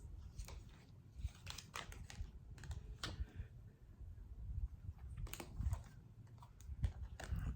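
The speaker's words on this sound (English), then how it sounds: "Why am I flipping cards?" Tarot cards from the Hanson-Roberts deck being flipped and handled close by, a series of quick, light papery snaps and slides at an irregular pace over a quiet room.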